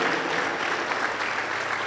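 A Pentecostal church congregation claps together in a dense, sustained burst of applause during a service, loud and continuous throughout.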